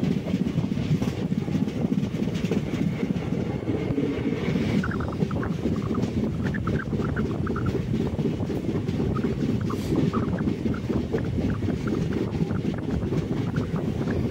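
A sleeper class train on the Madurai to Kollam route rolls steadily onward, its carriages filling the air with a dense, continuous rumble and rattle, with faint clickety-clack and wind noise and no voices.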